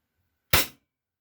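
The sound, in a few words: WE Glock 17 Gen 4 airsoft pistol test fire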